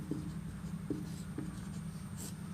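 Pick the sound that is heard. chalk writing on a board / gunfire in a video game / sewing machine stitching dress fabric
chalk writing on a board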